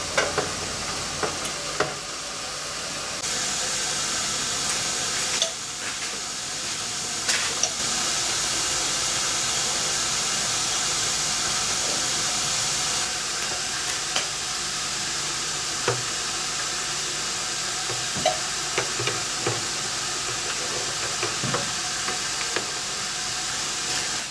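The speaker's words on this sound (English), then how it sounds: "we can put them into our Parker phosphate solution, and they stay in there for 15 to 20 minutes" Metal parts sit in a hot Parker phosphate solution and fizz with a steady, soft sizzling hiss, and a few faint knocks and clicks come through now and then, with no voices.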